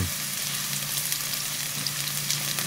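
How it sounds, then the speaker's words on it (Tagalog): Chopped onion and garlic sauté in hot oil for a one-pot chow fan, giving a steady, close, even sizzle that holds throughout with no talking. "igisa na natin yung sibuyas. Sunod naman yung bawang."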